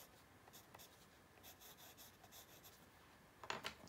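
A colouring pencil scratches softly across paper in quiet strokes, ending in a brief burst of quicker, firmer shading.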